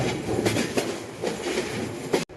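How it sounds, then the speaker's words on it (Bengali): A train runs at full speed out of Chittagong railway station in the Train Simulator Bangladesh video game, a continuous rumble with rhythmic clickety-clack of the wheels that cuts off abruptly at the end. "আমরা ফুল স্পিডে ট্রেন চালাবো"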